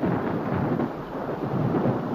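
Low rolling thunder rumbles steadily through a wartime scene, a deep continuous roar with a rain-like wash on top, loud and unbroken from start to finish with no voices.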